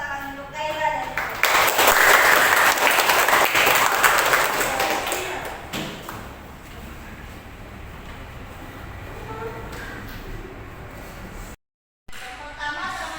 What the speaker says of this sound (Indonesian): Kita beri tepuk tangan untuk Kayla dan Dia.